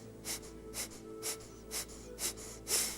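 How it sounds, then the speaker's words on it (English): A deep inhaled breath followed by a series of short, pumping exhales during a chair yoga exercise, five or so quick, breathy puffs spaced in a steady rhythm, close and fairly soft. "you take a big breath in and you pump"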